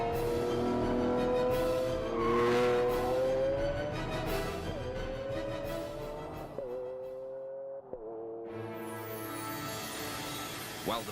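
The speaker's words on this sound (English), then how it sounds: "This 12-cylinder symphony has a full range. From a moderate rumble through the town at low revs" Lamborghini Aventador V12 supercar engine revving, rising tonal whine climbing in pitch with sharp breaks at gear changes, loud and continuous.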